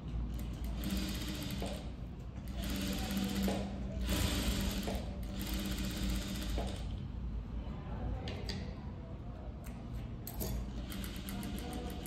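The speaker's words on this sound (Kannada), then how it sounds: "ಈಗ ಎಡ್ಜಿಗೆ ನೀಟಾಗಿ ಸ್ಟಿಚ್ ಹಾಕ್ಕೊತೀನಿ." A sewing machine stitches along the edge of a princess-cut blouse in close, continuous mechanical whirring bursts, with brief pauses and small clicks between runs. Faint talk is barely audible in the background.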